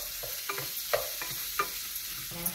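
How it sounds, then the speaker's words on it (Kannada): Sliced onions and curry leaves frying in a pan, a steady close sizzle broken by several sharp scraping stirs of a spatula, with no voices. "ಇದನ್ನು ಸ್ವಲ್ಪ ಸರಿ ಫ್ರೈ ಮಾಡಬೇಕು"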